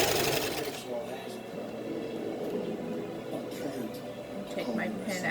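A sewing machine back stitching seams on a dog coat, a fast, close mechanical whirring rattle running in bursts, with a voice speaking over it in places.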